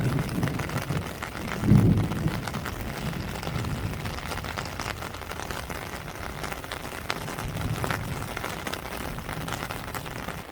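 Midday rain falls over rice fields in a steady, broad patter mixed with gusts of wind buffeting the microphone and a brief low rumble near the start.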